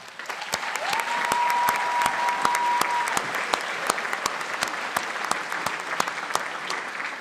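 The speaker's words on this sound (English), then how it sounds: "let's have a round of applause for all the love in the..." Applause from a large audience at a 2023 university commencement ceremony: dense, steady clapping filling a big hall, with sharp individual claps standing out near and a faint tone briefly underneath.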